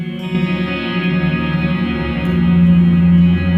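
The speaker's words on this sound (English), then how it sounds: "your original guitar dry sound is now swimming in modulation. It's like swimming in delay reverb" A sustained electric guitar chord through a Line 6 Helix rings out, thick with shimmering modulation, echoing delay and a wide reverb wash.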